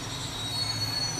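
A train squeals on its wheels as it brakes to a stop, a loud, continuous high-pitched screech over low rumble with faint speech beneath.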